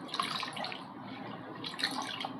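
A cloth is soaked and wetted in a bowl of water, giving soft close sloshes and drips in small bursts with quiet gaps between them.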